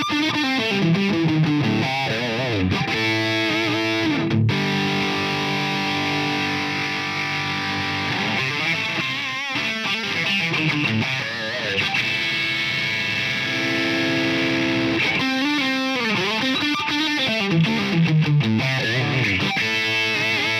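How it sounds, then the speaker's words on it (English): Electric guitar played through a Boss DS-1W Waza Craft distortion pedal, loud and continuous, with saturated chords and sustained notes ringing out in phrases and no talking. "thank you so much for watching my demo on the Distortion DS1W Wasa from Boss"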